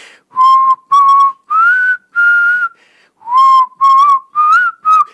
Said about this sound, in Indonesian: duduk sendirian di belakang rumah sambil bersiul dengan nada yang biasa dia mainkan